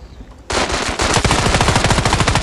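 Automatic gunfire in the mobile shooter Standoff 2, a loud rapid burst of shots rattling on continuously after a brief quieter lead-in.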